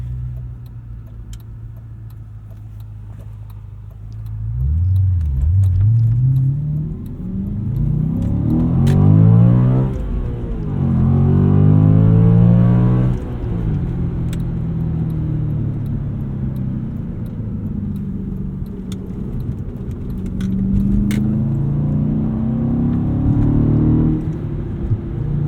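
A 2007 Audi RS4 engine heard from inside the car while driving, with a steady low drone that rises in pitch through several gear pulls and eases back between them, loud and continuous with no talking.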